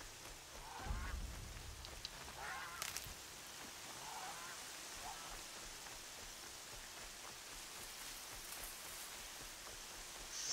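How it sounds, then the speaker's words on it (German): Steady rain falls in the PS4 video game Horizon Zero Dawn, an even, soft hiss of drops throughout, with a few brief sharper sounds near the start. "Oh, dieser Regen, der nervt."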